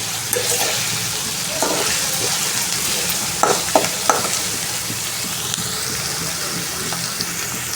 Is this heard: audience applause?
no